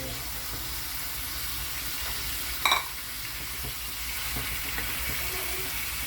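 String beans (sitaw) fry in a pan as they are stirred, with a continuous, fairly loud sizzle and one brief clink of a utensil partway through.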